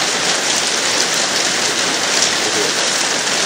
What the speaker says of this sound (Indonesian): Kedengeran nggak nanti ini audionya hujan?